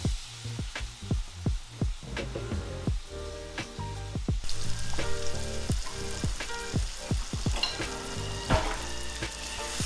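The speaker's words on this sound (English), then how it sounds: "So to our fat here, I'm gonna go ahead and add some onions and garlic that we chopped earlier." Chopped onions and garlic fry in hot fat in a pan, giving a close, continuous crackling sizzle broken by quick stirring scrapes, and the sizzle grows louder partway through, with no talking.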